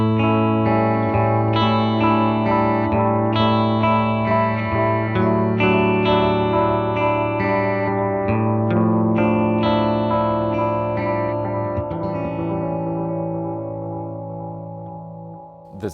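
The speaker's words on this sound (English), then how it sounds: "I wanted to create a delay that just had a really beautiful sounding repeat" Electric guitar through a Red Witch Apothecary analog delay pedal, sustained chords with soft repeating echoes that blend into a thick wash and gradually fade toward the end, heard alone without talk.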